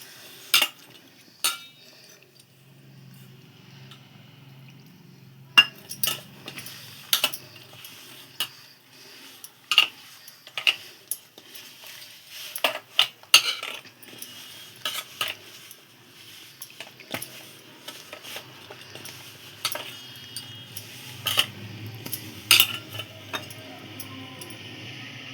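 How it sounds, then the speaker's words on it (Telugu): Badusha dough is mixed gently by hand in a bowl, giving soft squishing and scattered light clicks and taps of fingers and bowl at an irregular rhythm, close and fairly quiet. "ఇలా కలుపుకోవాలండి పిండిని"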